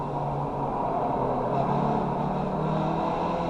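A race car engine drones steadily in second gear in the iRacing sim at Summit Point Raceway, holding an even pitch with a slight rise, close and continuous with no talk.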